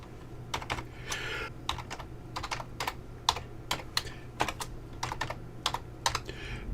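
Someone types Arduino code for a welding sequence on a computer keyboard, in close, crisp clusters of keystrokes with short pauses, over a faint steady hum.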